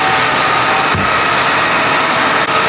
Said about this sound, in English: Caleb's just running the tractor again.